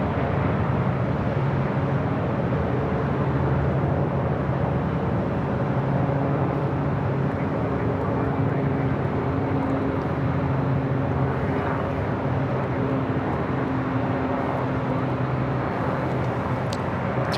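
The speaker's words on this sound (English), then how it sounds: "we do have a United Dreamliner taking off" A United Boeing 787 Dreamliner takes off on runway 25 right at LAX, a steady, broad jet roar with low engine tones that holds constant and fairly loud from start to end, with no voices.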